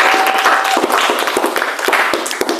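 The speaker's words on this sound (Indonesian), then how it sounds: "sebelumnya tepuk tangan untuk teman-temannya." Students in a classroom clap for their classmates, a short uneven patter of individual claps with distinct sharp hits over a light background hum.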